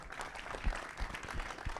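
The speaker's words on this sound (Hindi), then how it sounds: "तो चलिए जी एक बार जोड़ा ताली होनी चाहिए अपूर्वा के लिए" Audience applause at a film trailer launch event, a steady patter of many hands clapping at moderate volume throughout.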